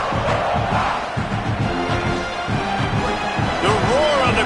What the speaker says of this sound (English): The roar on the crowd trying to fuel this defense to keep them pinned in their own end